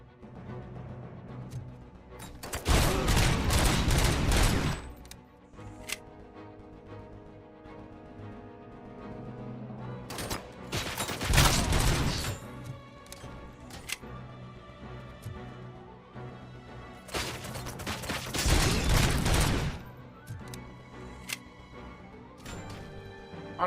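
Gunfire in the Robocop video game: three long bursts of rapid, loud shooting, each lasting a couple of seconds, separated by stretches of steady background music and game sounds.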